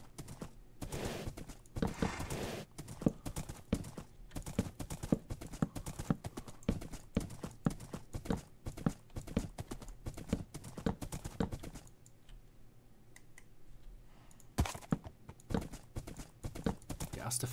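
Horse hooves clip-clopping steadily as a rider crosses dense forest in the Minecraft video game, a fast, even rhythm of close, sharp hoof strikes that thins briefly near the end before picking up again.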